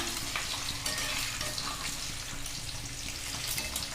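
Eggs frying crisp in hot oil in a pan for a Dhaba-style egg curry, a steady dense sizzle running continuously and fairly loud, with occasional stirring scrapes and no voices.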